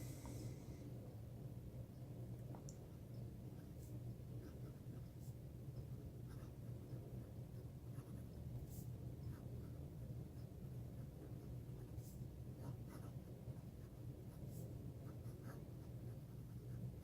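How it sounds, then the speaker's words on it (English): A Knox Aristotle fountain pen writing on Clairefontaine paper gives faint, steady scratching with small scattered nib ticks over a low, constant rumble, close and quiet throughout, with no speech. "All right, let's do a writing sample now."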